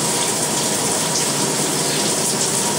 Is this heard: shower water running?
yes